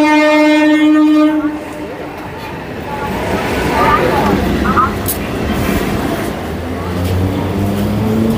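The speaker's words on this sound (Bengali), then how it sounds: "সবার প্রথমে আমি এই বিধাননগর থেকে ট্রেনে করে চলে যাব সোদপুর স্টেশন।" A suburban train running from Bidhannagar toward Sodepur station near Kolkata opens with a loud, sustained horn blast, then settles into a steady, close rumble of wheels and carriages.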